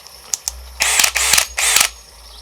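An AEG BSB18BL cordless drill switched to hammer mode gives two small clicks, then three short, loud, rattling bursts close by.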